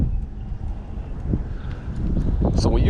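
Strong gusting wind outdoors on the water while fishing off Harsens Island, Michigan, buffeting the microphone with loud low rumbling bursts that build toward the end.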